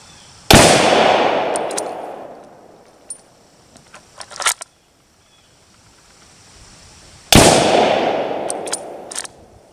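Two loud, sharp rifle shots from a Swedish Mauser M38 in 6.5x55 fire about seven seconds apart outdoors, each with a long decaying echo, with faint handling clicks and rattles between them.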